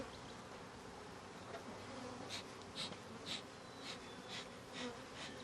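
Honey bees buzz around an open hive during a spring inspection, a faint, steady hum with louder passes as individual bees fly close by.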